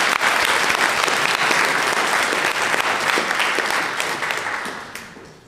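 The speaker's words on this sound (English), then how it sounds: "So let's give them a round of applause." A church congregation at a Sunday morning service gives its core team a loud, dense round of applause that holds steady for several seconds before tapering off at the end.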